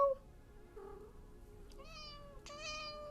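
A house cat gives two short meows, close and fairly quiet, with faint room noise between them and no talking.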